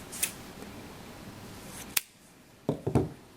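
Scissors snip through white yarn during a crochet wraparound stitch project: a few short, crisp metallic clicks and cuts spaced apart, close and fairly quiet against a soft background.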